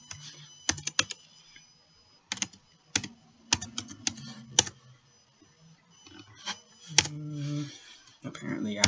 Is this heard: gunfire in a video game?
no